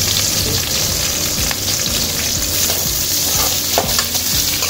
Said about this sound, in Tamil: வெங்காயம் மட்டும் நல்லா கொஞ்சம் நேரமாக வரணும், அந்த அளவுக்கு இங்கே வதக்கிக்கணும்.